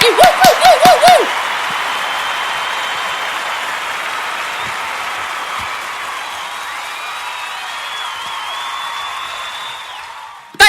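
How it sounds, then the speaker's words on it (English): A live-show audience claps briefly and loudly, a short burst of rhythmic claps with whoops, then a long sustained hiss of steady applause and crowd noise that fades out before a final sharp noise at the end. "Thank you for the wonderful, amazing round of applause."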